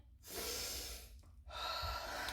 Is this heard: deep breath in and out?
yes